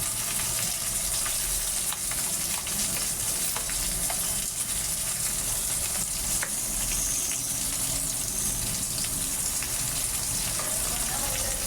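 Onions browning in a pan sizzle and crackle loudly and continuously as cumin paste goes in, for a Bangladeshi potato and prawn curry, with a steady hiss and occasional stirring scrapes and no pause.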